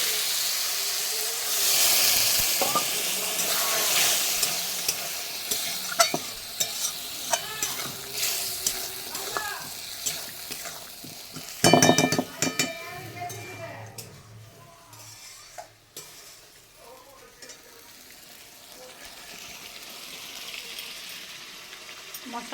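Masala is stirred in a pan over a clay stove, with a steady sizzle and soft, repeated scraping strokes. A louder burst of hissing and clatter comes midway, and the frying then settles back to a quieter simmer.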